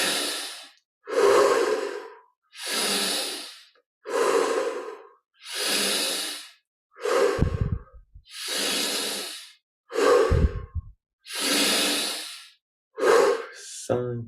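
Deep breaths during a guided meditation, about ten long, loud inhales and exhales in a slow, even rhythm, heard close with no speech.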